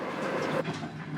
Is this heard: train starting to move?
yes